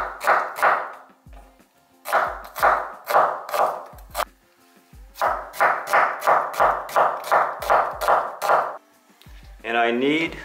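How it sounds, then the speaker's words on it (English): A knife chopping onion on a cutting board in a home kitchen for Korean kimchi soup: clusters of crisp, evenly spaced taps with short pauses between them, and a voice speaking briefly at the end. "I'm going to cut onion"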